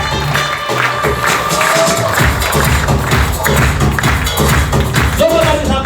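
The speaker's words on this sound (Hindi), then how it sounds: "Thank you very much sir, जोरदार ताली के साथ में।" A hall audience applauds and cheers loudly and steadily at a success-story event honoring a director, the crowd noise sustained while people's voices carry over it.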